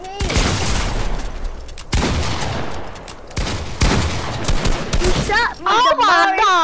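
Rapid bursts of gunfire from the Fortnite video game crackle in three loud volleys, and excited voices shout over the shooting toward the end.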